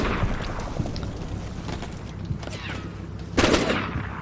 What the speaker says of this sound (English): The BMPs are putting some fire down on these enemy troops up here.